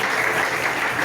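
A church congregation applauds together in praise during a sermon on marriage, a brief, steady wash of many hands clapping at even loudness.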